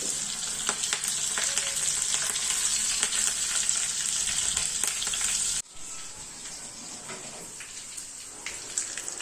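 Cumin and green chili tempering crackles in hot oil for a fasting-style dhokla, a dense steady sizzle that drops abruptly to a quieter, lighter fry partway through, with no talking.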